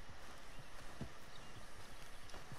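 Horse hooves clip-clop at a steady walking pace in Red Dead Redemption 2, quiet, rhythmic thuds on the ground over faint ambience.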